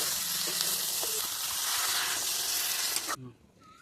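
Spiced jackfruit curry with eggs sizzles loudly in a pan after water is added, a dense crackling hiss that cuts off abruptly near the end, leaving quiet background.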